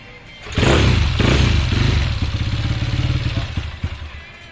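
A small motorcycle engine kicks into life with a loud burst, then settles into a close, chugging idle with rhythmic firing pulses that gradually loosen and fade.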